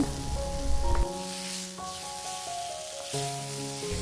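Chopped tomatoes frying in a pan for a green tomato chutney, giving a steady, even sizzle close up, with sustained tonal sounds running in the background and no talking.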